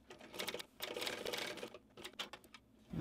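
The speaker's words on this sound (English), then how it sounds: "And I'm gonna backstitch at the beginning and the end." A home sewing machine stitches a bag seam with short bursts of rapid mechanical chatter, pausing between runs as the stitching reverses to backstitch, quiet and close with no talking.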